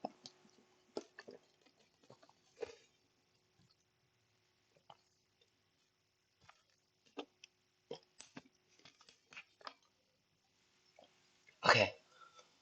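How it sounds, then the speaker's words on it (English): A person drinks water close to a microphone: sparse, quiet wet clicks, sips and mouth noises spread across the stretch, then a single louder thump near the end, with no talking. "I need to drink water."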